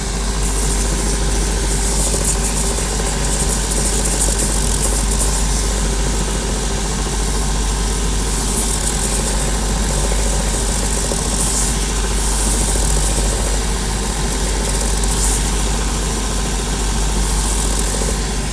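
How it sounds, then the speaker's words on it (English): A shoe finishing machine's smooth wheel runs against the heel of a Tricker's boot during a Commando heel replacement, giving a loud, steady, continuous whirring drone with no break or speech throughout. "Then onto the smooth wheel here."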